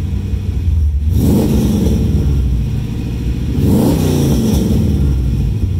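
A 1996 Pontiac Trans Am Ram Air convertible with headers and a 3-inch exhaust revs hard twice with a deep, loud exhaust roar, rising sharply each time and settling back to a rumbling idle between.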